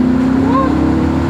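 A Mach 1 Mustang fastback drives with a loud, steady engine drone throughout, a low constant hum with a brief rising tone in the middle and no talking over it.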